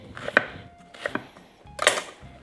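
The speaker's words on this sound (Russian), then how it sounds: "И они сейчас тоже мелко нарежутся и пойдут к кабачкам." A knife finely chops zucchini on a cutting board, giving three close, crisp chopping strikes with brief pauses between them.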